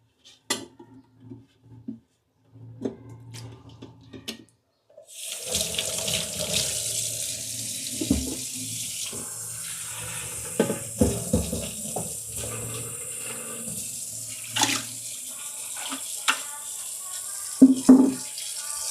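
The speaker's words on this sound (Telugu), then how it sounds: "సో ఫస్ట్ అయితే ఇలా వాటర్లో కొంచెం తొరిపేస్తున్నాను" A few soft clinks and thumps, then a tap opens and water runs steadily and loudly, splashing as a fish tank and its parts are rinsed and knocked about.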